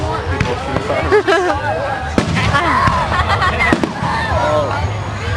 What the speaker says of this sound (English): Playing overtime with other people shooting fireworks.